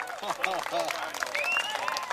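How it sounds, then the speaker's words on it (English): Spectators at an Ohio State vs Indiana college rugby match clap and call out after a play, a modest, uneven burst of applause with voices and commentary talking over it. "Got the crowd a little excited here."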